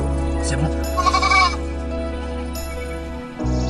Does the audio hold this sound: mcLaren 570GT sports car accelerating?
no